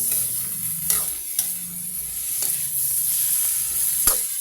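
Food fries in a pan with a steady, close sizzle, broken by several scraping taps as it is stirred while browning.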